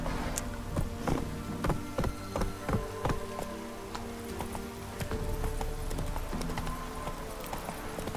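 Steady clip-clop of horse hooves in The Witcher 3: Wild Hunt, in a quick, regular rhythm, close and fairly loud over a continuous musical background.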